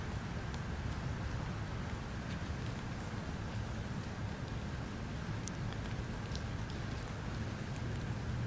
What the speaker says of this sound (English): Starting to rain on that.